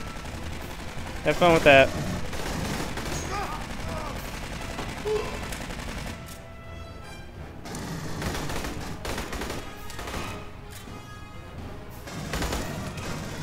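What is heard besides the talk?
gunfire at a turret in Aliens Colonial Marines video game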